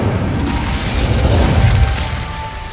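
Incendio fire spell cast in Hogwarts Legacy, a muffled whooshing burst with low rumbling and mechanical clatter, steady and fairly loud for a few seconds with no talking.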